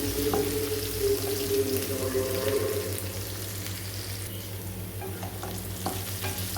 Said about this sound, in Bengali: এখন আমি একটু পেঁয়াজটা ভাজা ভাজা করে নেব।